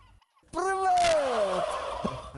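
A loud, close turkey gobble from a 35-kilogram farm bird bursts out after a brief quiet moment, a warbling descending call lasting about a second, followed by faint rustling.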